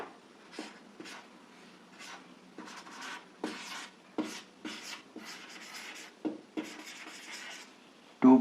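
Chalk or marker writing on a classroom board in short bursts, each stroke a crisp scratchy rub with brief pauses between, close and fairly quiet, with no talking.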